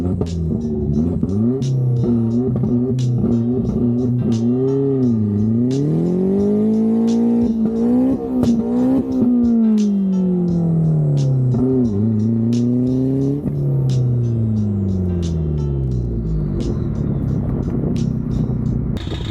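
A Chevrolet Sonic race car on a test pull, its engine rising and falling through repeated loud accelerating sweeps as it revs through the gears, close and continuous with no talking.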